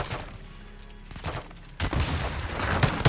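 A burst of rapid gunfire rings out in Call of Duty: Modern Warfare II, loud and dense, with crackling shots and booms piling up after a quieter stretch of scattered pops.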